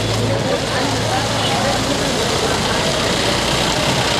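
A truck engine idles with a pump running, giving a steady low rumble and broad mechanical hiss throughout. Voices talk over it.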